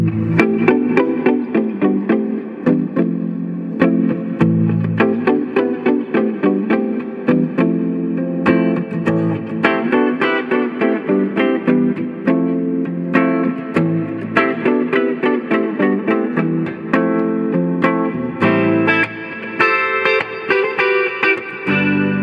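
A 1967 Epiphone Riviera electric guitar on its neck pickup, played through a Fender Deluxe Reverb tube amp, warm clean chords and picked notes with some chorus and reverb, steady rhythmic strumming throughout, no voices.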